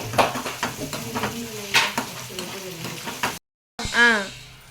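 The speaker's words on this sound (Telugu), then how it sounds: "కొద్దిగా టమాటా, తర్వాత బాగా కలుపుకోవాలి." Tomato stirred into a sizzling, frying Hyderabadi bagara rice base, with a utensil scraping and knocking the pan over a steady fry, and a brief voice near the end.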